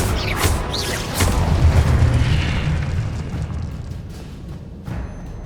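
A Confringo spell in Hogwarts Legacy erupts in a loud, sustained booming blast, with a rumbling low roar that fades slowly over several seconds amid crackling debris.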